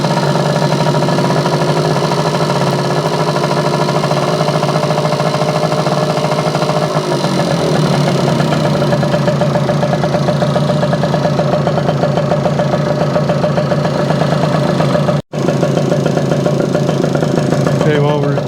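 Yamaha Campus 60 YJ2 scooter engine held at about 1500 RPM during repairs, a loud, close, steady buzzing drone that runs throughout with one brief cut-out near the end.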